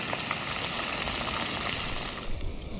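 Food sizzles in a frying pan over heat inside a survival shelter. The crackle is steady and dense, then thins slightly near the end.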